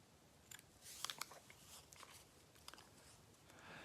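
Scissors trim material on a floral gnome hat, giving a few faint, close snips and crunches, mostly clustered near the start with one later cut over quiet room tone.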